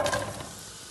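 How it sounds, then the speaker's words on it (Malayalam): Onions hit hot oil with a brief, bright sizzle that fades quickly into a soft, steady frying hiss. "ആവശ്യമായ ഓയിൽ ഒഴിച്ചു കൊടുക്കാം സവാള ഇട്ട് കൊടുക്കാം"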